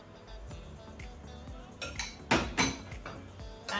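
Oreo biscuit crumbs being stirred with melted butter in a bowl, a series of close scraping clinks of a utensil against the dish, a few louder knocks toward the end.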